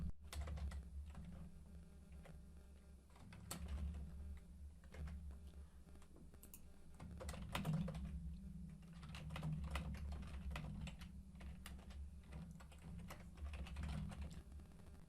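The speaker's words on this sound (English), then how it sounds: "now John is going to write me an email" Steady keyboard typing on a computer keyboard while an office email is written, a continuous run of close, quick key clicks with irregular rhythm, alone without talk.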